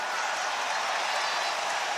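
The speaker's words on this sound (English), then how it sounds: "Listen to the applause." A crowd applauds at a K-1 kickboxing World Grand Prix final, a steady, dense wash of clapping from a large arena audience that fills the whole moment.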